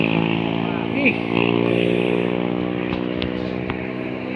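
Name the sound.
motorcycle passing on the road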